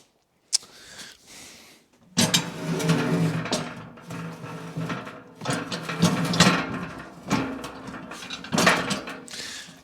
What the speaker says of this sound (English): And then use the winch to engage the back hooks.